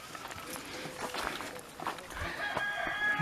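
Chickens out in a food forest, several clucking near and far, with a rooster crowing and a high, sustained call near the end. No one speaks.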